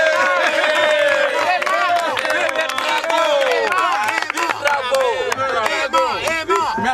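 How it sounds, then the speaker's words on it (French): An audience at an outdoor theatre performance in Senegal claps and cheers loudly and steadily, with whistles and shouting voices mixed into the dense applause throughout. "Applaudissez."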